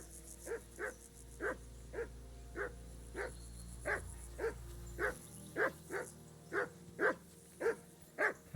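A hound in Kingdom Come: Deliverance II barks persistently in a regular, even rhythm, around fourteen barks at mid distance, over a low ambient background hum.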